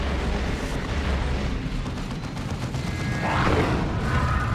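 Plasma cannons firing in a Dawn of War 2 multiplayer battle, a dense, continuous roar of booming blasts layered with battle noise, with a brighter burst toward the end.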